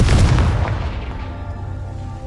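A Confringo blast spell goes off in the wizarding game Hogwarts Legacy, one loud close boom with a heavy low thump that decays into a rumbling tail over about two seconds.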